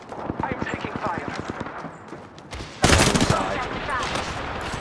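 Gunfire in the battle royale shooter Apex Legends: a rapid run of automatic shots, then a louder burst of fire and impacts, with game noise and a voice talking over it.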